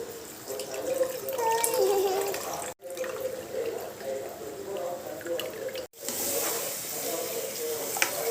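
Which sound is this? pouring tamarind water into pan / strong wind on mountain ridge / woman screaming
pouring tamarind water into pan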